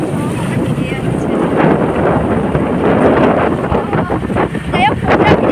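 Heavy rain pours outdoors near a house gate, a loud, steady broadband hiss roughed up by wind buffeting the microphone, with a faint voice near the end; no distinct thunder stands out.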